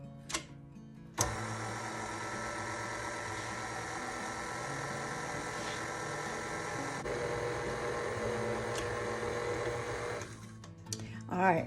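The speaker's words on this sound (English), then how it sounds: "we're still going to use the paddle for the mixer. And we're going to put that on low." A stand mixer with its paddle attachment churns sourdough cinnamon twist dough on low speed, a steady whirring motor hum with a faint ticking rhythm that starts abruptly and runs for about ten seconds before cutting off.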